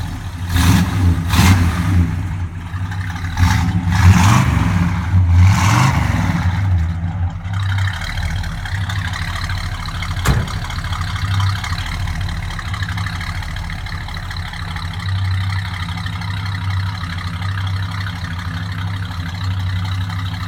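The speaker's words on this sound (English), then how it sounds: "I'll just start it up here, and you can hear the sweet sound and dual exhaust of this 389" A 1964 Pontiac Catalina's 389 V8 with dual exhaust cranks and revs in a few sharp bursts, then settles into a steady, rumbling idle, recorded close and alone.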